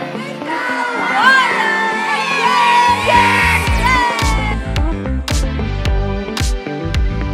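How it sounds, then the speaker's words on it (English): Kids at a school event get loud crowd cheering, whoops and yells that swell and keep going, with some musical or tonal sounds mixed into the noisy din. "Can we give the kids all a big round of applause?"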